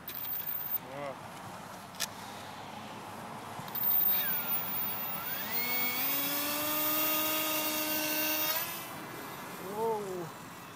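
Ultra micro scratch-built F-22 Raptor model plane in flight, its tiny motor a high buzzing whine that rises in pitch and holds steady for several seconds before cutting off, with brief voices before and after.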